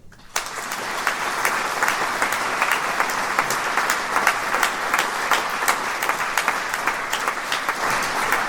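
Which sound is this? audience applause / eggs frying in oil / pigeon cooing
audience applause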